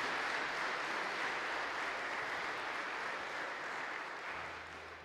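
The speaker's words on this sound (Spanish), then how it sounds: "dale un aplauso" Audience applause at a Christian trova concert, a dense continuous wash of clapping from a crowd at moderate distance, holding steady and then tapering off at the end.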